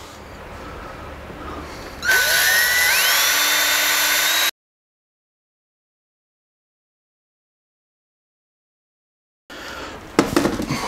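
Power drill driving screws into a Tactical Walls ModWall panel: a loud whirring burst of about two seconds with rising pitch, followed by silence, then a short, fainter burst of drilling with a sharp knock.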